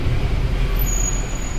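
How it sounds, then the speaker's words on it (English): Car driving along with road and engine rumble underneath, while a thin, high-pitched brake squeal rises faintly partway through and holds to the end. "Oh, you hear that? That squeal?"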